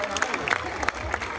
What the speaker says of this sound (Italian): Facciamo un applauso a Noemi, che adesso è un medico.